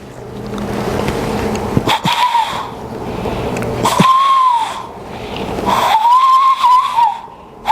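Three clear rising-and-falling whistled notes, separated by pauses, imitate a bird call over faint background noise.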